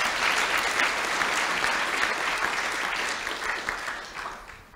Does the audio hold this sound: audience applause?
yes